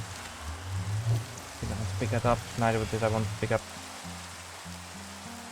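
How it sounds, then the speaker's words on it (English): Steady rain falls in Minecraft as a soft, continuous hiss beneath game music, while a person talks over it in the middle of the stretch. "So it's still raining. That's annoying."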